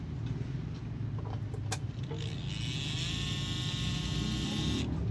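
A repaired electric fuel pump runs on test: a continuous buzzing hum that gains a higher, steady whine partway through, close and fairly loud, with no talking.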